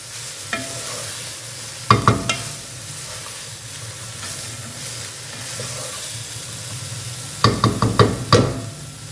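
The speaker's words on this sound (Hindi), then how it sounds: "ये देखिए आप, ठीक है, ये हमने कैबेज डाल दिया है" A spoon stirs cabbage filling for chicken spring rolls in a pan, with a steady sizzle underneath and two bursts of scraping strokes, one early and one near the end.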